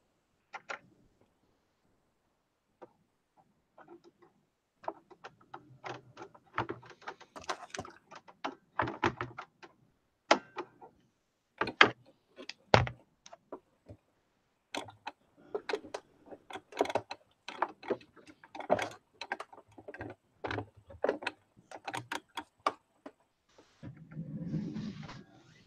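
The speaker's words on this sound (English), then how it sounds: "Yeah, I'm changing my needle." A needle gets swapped on a sewing machine in a quiet room, a scattered run of small close clicks, taps and mechanical ticks with brief pauses between them, ending in a short rustle.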